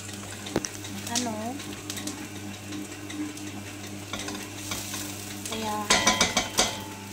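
Garlic sizzles in a pan over a steady frying hiss, with a utensil stirring and clinking and a louder burst of scraping near the end, while someone speaks briefly over it.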